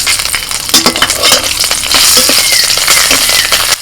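Nigella seeds and slit green chillies hit hot oil, crackling and sizzling loudly and steadily throughout, with sharp popping bursts over a continuous frying hiss.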